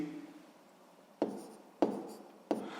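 A pen writes on paper nearby with a soft scratching stroke, then three short, sharp taps as it touches down, quiet and without speech.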